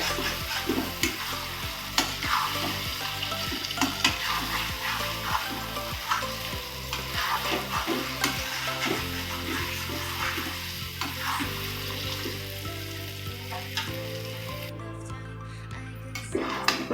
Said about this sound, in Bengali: ভালো করে কষে নিতে হবে।